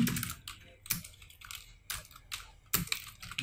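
Rapid keystrokes on a computer keyboard come in quick bursts with brief pauses, close and moderately quiet, with no talking.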